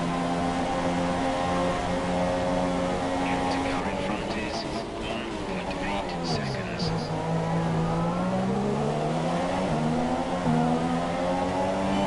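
Renault Formula 1 car engine from the F1 2017 video game, a loud high-pitched whine held steady, then dipping and climbing again as it shifts through gears on the A1 Ring circuit in Austria, with someone talking over it.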